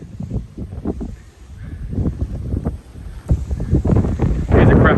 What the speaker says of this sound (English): Here's a cracking venue, which is very windy.